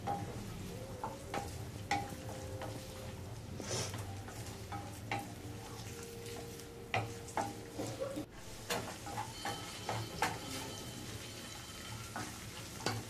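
Carrots and mixed vegetables stir-fry in a pan for a methi fry, a steady close sizzle broken by repeated scraping stirs and light clinks of the spatula against the pan.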